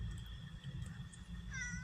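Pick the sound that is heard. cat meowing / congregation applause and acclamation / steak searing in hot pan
cat meowing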